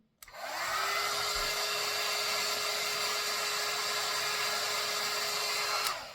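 A BaByliss rotating hair brush switches on and runs with a steady, close electric motor whine and airflow hum, starting abruptly and cutting off near the end.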